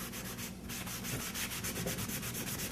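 Stain being rubbed onto a sheetrock wall with a rag, making close, rhythmic scrubbing strokes in a quick repeated back-and-forth pattern, with no voices.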